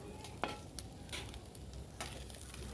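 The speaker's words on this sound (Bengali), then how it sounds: "তো চিংড়ি মাছটা প্রায় ভাজা হয়েই গেছে" Prawns fry in oil with a soft, low sizzle, with a few light clicks and stirring sounds over a quiet, steady hiss.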